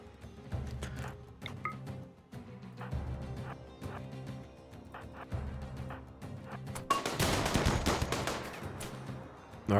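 Gunfire from a revolver and SMG in the video game RimWorld, a rapid run of sharp shots with steady background game music, growing into a dense, louder burst of firing near the end.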